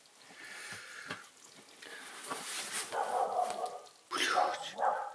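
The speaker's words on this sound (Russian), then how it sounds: "Собака где-то рядом." A dog barks nearby at night, with several short yelping barks rising over a quiet background toward the end, mixed with faint voice-like sounds.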